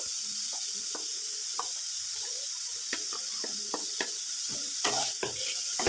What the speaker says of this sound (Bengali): ক্যাপসিকামটাও নেড়ে ছেড়ে নেব একটু।